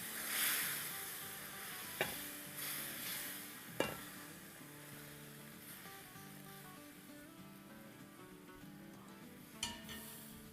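A spoon slowly stirring a mixture in a pot on a stove at medium-low heat, with faint, gentle scraping, a soft low sizzle and a few isolated clinks.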